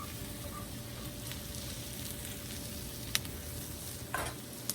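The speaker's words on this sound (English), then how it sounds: "I'm gonna mix it up nice." Seasoned food being mixed in a hot pan, a steady, dense sizzle with a few sharp clicks and scrapes of the utensil, no voices.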